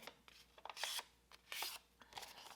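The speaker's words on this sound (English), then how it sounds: "we'll just take it, we'll fold it in half one way," A cut-out paper circle is folded in half, giving close, crisp rustles and sliding creases in two or three short bursts. Quiet handling sounds fill the gaps.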